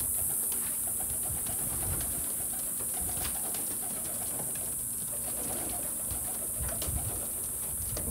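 Pigeons coo and rustle steadily inside a finished pigeon loft, a continuous close chorus of soft calls with a high constant hiss over it and no talk.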